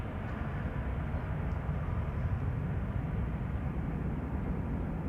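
An airliner on a Heathrow to Amsterdam flight rumbles past at Amsterdam Schiphol Airport, a steady, broad engine roar that stays even and fairly loud from start to finish.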